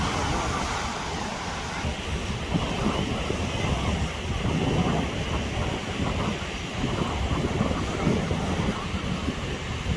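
Ocean surf on a Cancun beach roars steadily and continuously, a broad wash of breaking waves mixed with wind buffeting the microphone.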